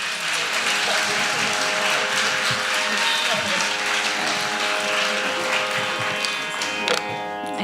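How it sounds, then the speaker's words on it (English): At a Bharatanatyam arangetram, an audience gives dense, continuous applause after a Varnam, loud and sustained for the whole stretch, with faint tonal sounds in the background. "Can we get another round of applause for that Varnam?"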